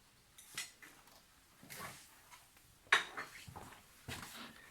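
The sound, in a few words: mixing ground meat croquette filling in a bowl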